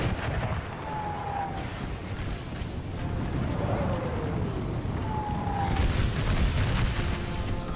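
Artillery shells strike the battle lines in an American Civil War hardcore battle game mod, with distant booming impacts rolling under steady wind noise and battlefield din across the stretch.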